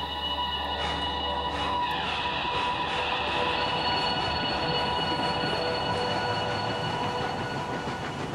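A steam train in the video game Railroads Online pulls away and runs, a steady loud rolling rumble with clanking wheels and a faint squeal, continuous and close throughout with no talk.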